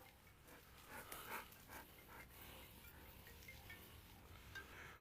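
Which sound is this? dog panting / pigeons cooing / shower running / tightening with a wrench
dog panting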